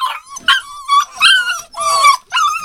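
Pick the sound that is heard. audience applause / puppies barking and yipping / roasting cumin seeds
puppies barking and yipping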